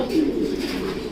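A racing pigeon coos in a low, steady murmur, close by and moderately loud, the soft rolling call running throughout with no talk over it.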